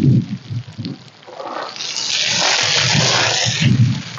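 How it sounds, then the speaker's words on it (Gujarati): Water is poured onto compost around a guava plant, a gushing splash that swells and holds for a few seconds, with low knocking sounds at the start and end. "તો બસ આપણે એટલું પાણી પાઈ દીધું છે હવે,"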